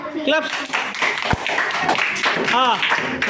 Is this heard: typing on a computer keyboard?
no